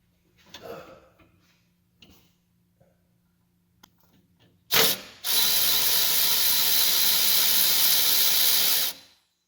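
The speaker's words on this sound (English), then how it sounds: "I'm just going righty-tighty on that, and it's barring the whole motor over so I can get those 6 torque converter bolts." A ratchet turns the engine over on a Ford F-250/F-350 during transmission removal: a few faint, sparse clicks first, then a loud, steady rasping burst that runs for about four seconds before stopping abruptly.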